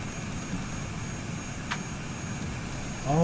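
Light aircraft engine noise as the engine shuts down, a steady broadband rumble with a faint whine, heard up close from inside the cockpit.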